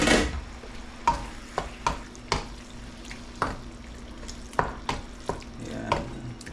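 Ground meat sautéing in a pan, with a low steady sizzle under a dozen or so sharp scraping and stirring knocks that come at an uneven pace, close by.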